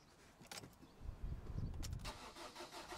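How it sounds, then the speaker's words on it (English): A Vauxhall Corsa 1.3 CDTI diesel engine cranks and fires up after a fuel filter change, a low rumble building after a short whir and settling into a steady idle, fairly quiet and close. "start the engine"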